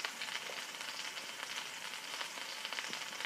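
Scallops searing in a hot pan, a continuous bright sizzle with fine crackles, steady and close for the whole stretch, no voices over it.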